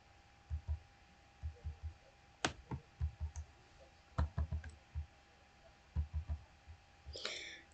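Mouse clicks while connecting paths in SmartPLS 3 software, a series of sharp, close clicks in small bursts with brief pauses, some doubled, quiet room background.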